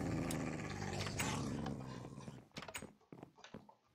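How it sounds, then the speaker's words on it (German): Growling dogs in the Minecraft video game, a loud rough snarling that fills the first two seconds, then breaks into shorter bursts and fades toward the end. "Aber deine Hunde hören sich jetzt nicht gerade gesund an"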